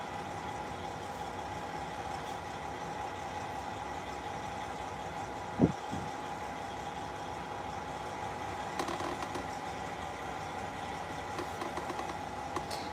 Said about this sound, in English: Yes, we are sitting at a truck stop.